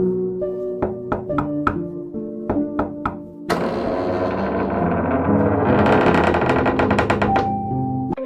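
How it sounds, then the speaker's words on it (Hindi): Knocking on a wooden house door as a horror-story sound effect: two sets of four sharp, resonant raps, then a swelling eerie drone with tonal music beneath. "निकुंज ने दरवाजा खटखटाया।"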